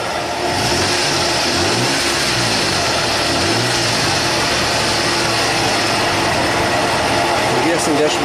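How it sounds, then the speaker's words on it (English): Nissan Xterra engine with a P0172 rich-condition fault, revving loud and close in a few rising and falling pulls before settling to a steady running drone. "Rev it up."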